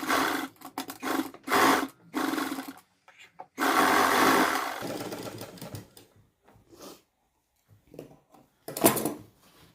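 Sewing machine stitching close along the edge of a round neckline on cloth, in several loud bursts of rapid needle clatter of varying length, with short pauses and quieter handling between them.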